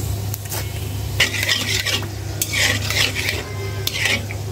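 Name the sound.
panch phoron spices frying in mustard oil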